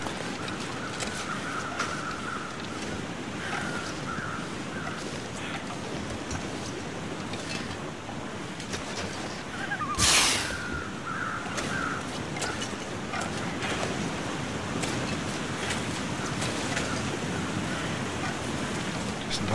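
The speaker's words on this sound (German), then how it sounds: "Wasserfall." A waterfall in the video game The Long Dark rushes in a steady, broadband roar of falling water throughout, with a brief sharp burst midway and faint tonal game sounds early on.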